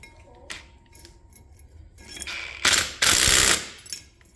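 Wrench tightening a caster wheel bracket onto a workbench, with close, loud metallic ratcheting clicks in short bursts and a longer grinding run near the end.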